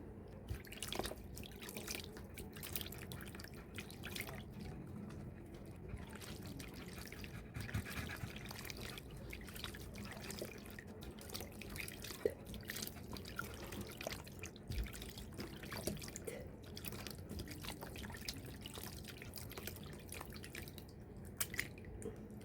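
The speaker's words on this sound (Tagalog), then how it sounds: "maghuhugas po muna tayo ng mukha" Water drips and splashes irregularly at a sink while someone washes their face, a steady patter of small drops continuing throughout at close range.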